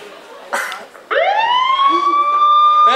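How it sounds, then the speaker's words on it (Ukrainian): A loud wailing siren rises sharply and holds a steady high tone, close and prominent after a couple of brief bursts of other noise at a staged comedy performance. "сирена для вчителя"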